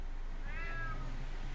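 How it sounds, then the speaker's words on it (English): A single game cat meows in the stealth video game UnMetal, a short rising-then-falling mew heard clearly over a steady low background hum. "Damn cat."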